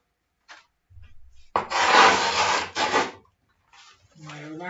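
Sandpaper-like grip tape is rubbed and filed against a street skateboard deck, giving short scraping bursts and then one long, loud rasping stroke, with a brief voice at the end.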